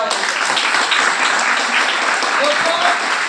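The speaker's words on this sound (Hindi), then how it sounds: "आप सभी लोग के लिए हमारी तरफ से एक बार जोरदार तालियां।" An audience gives loud, sustained applause, with many hands clapping together in a dense wash of sound that fills the room for several seconds.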